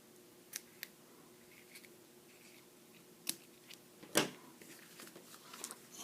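Scissors trim paper for a handmade card, a few faint, sharp snips scattered over a quiet background, one slightly louder cut near the middle.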